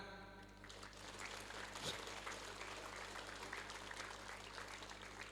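Applause from an assembled audience at a school flag ceremony, a fairly faint, even patter of clapping that swells after a brief start and continues steadily over a low background hum.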